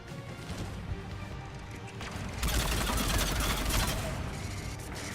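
Sustained machine gun fire from the video game Mass Effect 3, a dense rattling stream that thickens and grows louder partway through, with no talk over it.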